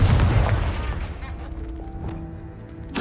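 A Confringo fire spell blasts in Hogwarts Legacy: a loud, booming burst opens, then decays into a fading, ringing tail, and a sharp second crack hits right at the end, with no talking over it.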